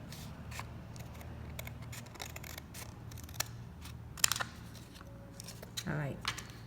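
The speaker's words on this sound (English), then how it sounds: "Instead of doing one at a time, you can go ahead and cut it together." Scissors snip through stacked leather pattern pieces for Oxford shoes, a few quiet, close cuts scattered over a soft room background with faint low hum.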